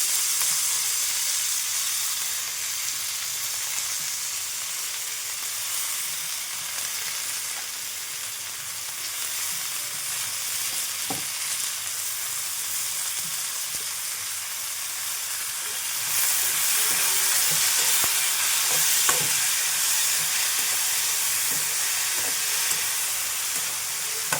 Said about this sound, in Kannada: ಈ ಟೊಮೆಟೊನ ಆ ಮಸಾಲೆಗೆ ಹಾಕಿ ಫ್ರೈ ಮಾಡ್ಕೋಬೇಕು